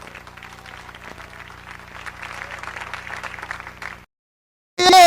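Church congregation applauding together for several seconds, a dense wash of clapping that stops abruptly, followed by a short burst of loud sound.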